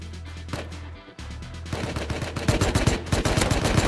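Gunfire from the video game Rust: a rapid burst of shots builds into dense, loud, sustained automatic fire, heard close over a low steady game hum.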